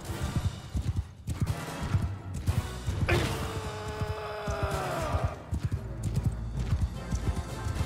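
Horses in the video game Bannerlord charging in a cavalry battle, a steady clatter of hooves with brief whinnies, overlaid by loud impacts and a sweeping swell of battle noise midway.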